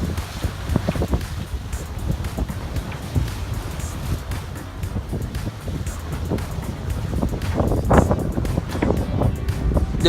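A catamaran running before a roughly 10-knot Caribbean wind, with constant buffeting wind noise on the microphone over rushing water and splashing along the hulls, steady and close.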